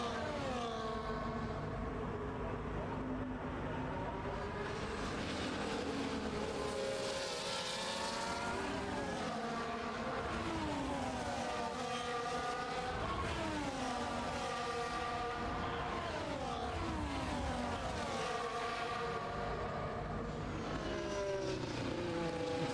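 Formula 2 race cars at the Hungary round scream past, engines rising and falling through gear changes in repeated waves, loud and sustained with several cars passing in sequence.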